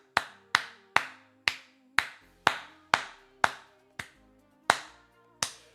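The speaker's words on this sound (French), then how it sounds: "Applaudissez Ridvan, s'il vous plaît" A long run of about thirteen crisp, evenly spaced handclaps at the 2025 Cannes Film Festival, close and steady like a single person clapping slowly.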